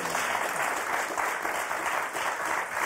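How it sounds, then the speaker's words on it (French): A TV game show studio audience on Motus breaks into loud, sustained applause for two contestants, a thick continuous roar of clapping with no break. "On vous applaudit très fort, Nicole, André."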